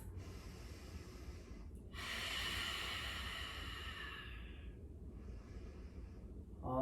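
Deep breathing during a slow yoga flow, a long, loud breath drawn in close to the microphone for about three seconds, then easing off, with a quieter breath before it and one at the end.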